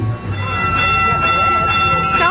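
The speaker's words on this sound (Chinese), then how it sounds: "小火车来了，好可爱啊！" A little toy-like food-delivery train rolls up to a restaurant table, giving off bright tonal train sounds and rumbling wheels up close, while people chatter over it.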